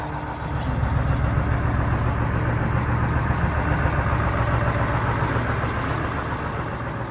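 A converted school bus engine idles steadily after starting, a continuous low rumbling drone held close and fairly loud throughout, with no talk over it.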